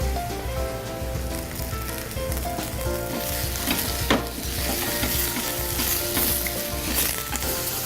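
Mushrooms and zucchini fry with minced garlic in a hot pan slicked with cooking oil and olive oil, making a loud, steady sizzle throughout with occasional stirring scrapes and clicks close by.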